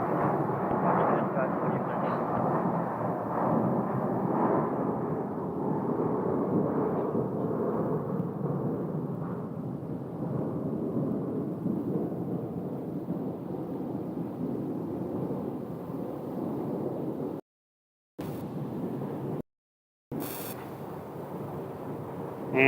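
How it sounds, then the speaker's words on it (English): A jet airliner taking off at Phoenix Sky Harbor Airport gives a steady, broad roar that holds loud for about seventeen seconds, with two brief dropouts near the end. "That's the one that just took off is headed to Dallas."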